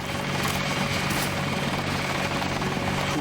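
A helicopter engine drones continuously in the video game Deus Ex, a loud, close, steady rotor and turbine roar with no break or change.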